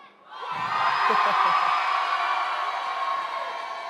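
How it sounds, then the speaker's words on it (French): A convention crowd in a conference hall bursts into loud applause with whoops and cheering, sustained and filling the room after a brief quiet start. "Vous pouvez vous applaudir"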